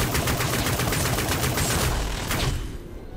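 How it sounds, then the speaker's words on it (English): Rapid gunfire from the Caldari starter weapon in the game Dust 514, a loud continuous stream of shots that cuts off near the end of the clip. "it has a long initial charge up, about a quarter of a second, and then it, as you saw there, it fires pretty quickly"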